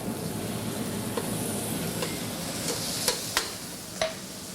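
Spinach and spring onions fry in a little olive oil in a pan. A soft, steady sizzle is broken by a few light clinks and scrapes of stirring near the end.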